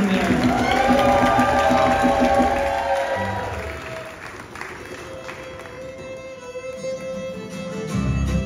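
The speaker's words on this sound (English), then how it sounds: "Round of applause for Matt Wyman over there." An audience at a live band show applauds and cheers in a broad wash of clapping that fades partway through and swells again near the end.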